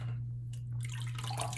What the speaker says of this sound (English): Still wetting my head.